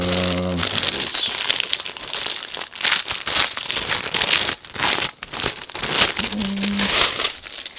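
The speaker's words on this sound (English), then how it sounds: "I apologise for all the crinkling." Plastic bags holding 1/72 scale Takom model kit parts for an FV432 armoured personnel carrier crinkle and rustle continuously up close, loud and busy with brief pauses.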